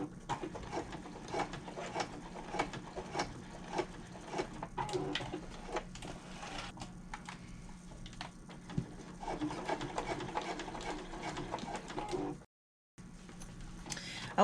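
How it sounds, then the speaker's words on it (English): A sewing machine stitches through the layered pockets of a wallet, running in close, rapid mechanical bursts that briefly stop near the end before starting again. "we're gonna tack this down by just putting about an inch of a stitch line right at the top of this pocket"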